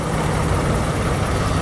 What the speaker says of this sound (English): There you go, your V6 engine just purring away like brand new.